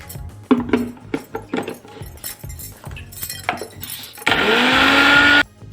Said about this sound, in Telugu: గులాబీ రేకులు మిక్సీ పట్టుకుందాం